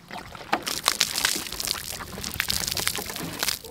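Bottled water poured outdoors for a bath at a desert campsite, a close, steady splashing gush with scattered sharper splats and some wind noise.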